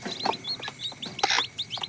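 Many native chicken chicks cheeping rapidly and continuously, high-pitched peeps overlapping close by, with a faint steady hum behind.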